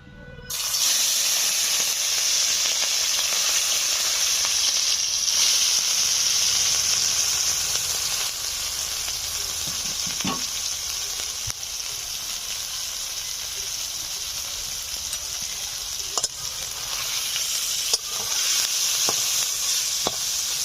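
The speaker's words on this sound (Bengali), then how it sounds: "সরিষার তেল গরম হয়ে গেছে, এখন চিংড়ি মাছগুলো ভেজে নিচ্ছি।" Shrimp fry in hot mustard oil with a bright, continuous close-up sizzle that holds steady throughout, broken only by occasional soft clicks of stirring.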